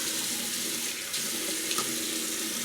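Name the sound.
running water from a tap while waiting for hot water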